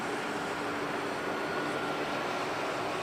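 An SAS Boeing 767 jet at London Heathrow gives a steady, broadband engine roar with no distinct events, constant and moderately loud throughout.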